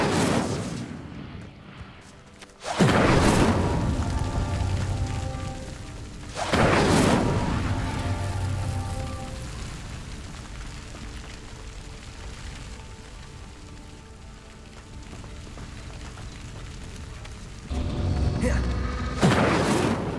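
Incendio fire spell cast at pyres in the Hogwarts Legacy game, several loud whooshing bursts of flame with a rumbling roar that fades between casts, spaced a few seconds apart.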